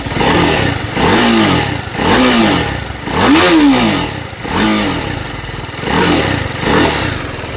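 A TVS Apache RR310 motorcycle engine in sport riding mode revs repeatedly in sharp rising bursts, about six throttle blips with a rough clattering idle between them, loud and close.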